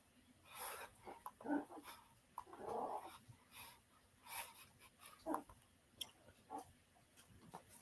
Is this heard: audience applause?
no